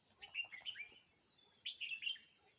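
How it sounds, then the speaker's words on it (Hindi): Several small birds chirp and tweet in short bright bursts at a mountain location in the morning, two clusters of quick calls separated by a brief pause, fairly faint against a quiet background. "कई प्रकार के पक्षियों की आवाज़।"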